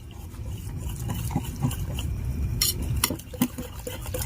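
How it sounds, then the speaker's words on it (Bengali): A hand whisk stirs batter in a bowl, making a continuous soft scraping and swishing with faint clinks against the bowl, close and moderately loud. "এবার আমি হ্যান্ড উইচ দিয়ে খুব ভালো করে মিশিয়ে নেব।"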